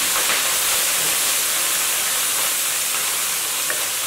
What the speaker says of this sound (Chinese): 锅内的油烧热之后，放入青椒块，再倒入荷叶段，翻炒均匀